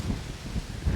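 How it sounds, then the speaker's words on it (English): Wind blows hard outdoors, buffeting the microphone with a continuous low rumble and irregular gusty swells, with no voices. "Oh, shoot. Man, this wind hitting out of nowhere."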